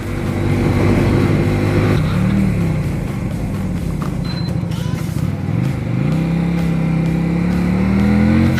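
A Suzuki Intruder 125 motorcycle ridden at full throttle gives a loud, continuous engine drone close by, its pitch sagging and climbing again as the revs shift, with wind noise underneath.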